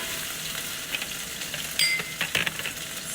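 Mushrooms sizzling in a hot pan as their liquid comes out, a steady quiet hiss with a few brighter spitting pops, close and without talk.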